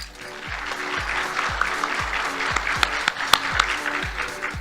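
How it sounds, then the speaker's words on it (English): Steady applause from a live audience at the Miss Cherokee pageant as the contestants are presented, a dense wash of clapping sustained throughout, with a thumping rhythmic bass beat from music playing underneath. "Let's give them another round of applause."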